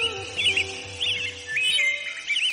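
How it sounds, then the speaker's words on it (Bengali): A pigeon cries out in four loud, repeated bursts of shrill, chirping bird calls over a low background hum. "কবুতরের চিৎকার শুনে"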